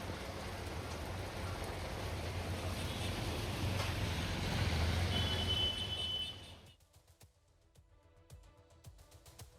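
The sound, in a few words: light rain drizzle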